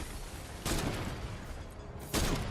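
A Meteor Slam melee attack from Fortnite Save the World lands in two loud, broadband impact bursts over a continuous rumbling game din, with no talking.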